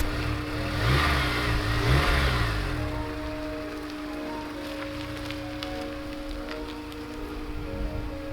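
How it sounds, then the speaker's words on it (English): A Honda S2000 convertible pulls off a driveway in winter, its engine rising in a swelling rev before settling to a steady hum with a faint tonal whine, and rain-like hiss in the background. "Let's get this car off the driveway."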